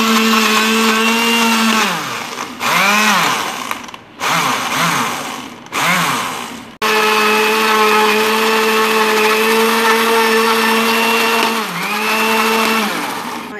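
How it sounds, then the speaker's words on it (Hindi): A blender purees peaches with lemon, its motor whirring loud and steady for most of the run, pausing briefly twice and dipping in pitch as the load shifts. "अब मैं इसको अच्छी तरह से ब्लेंड कर लूँगी।"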